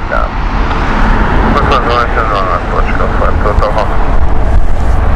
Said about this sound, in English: We've got the Lisbon flight, Air Portugal inbound now.